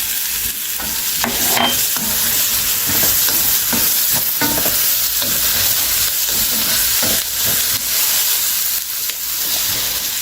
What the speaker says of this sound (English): Let's add our ginger. The spring onion goes in.